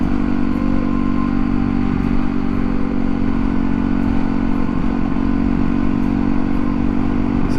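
A motorcycle engine drones loud and close on the highway, misfiring and popping, with a constant rough rumble and faint crackle over wind noise, no speech.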